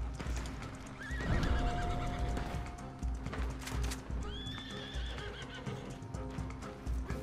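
Horses in the Red Dead Online video game neigh and whinny while hooves clip-clop steadily, all over a dense bed of game noise and music; a second whinny rises midway, loud and close.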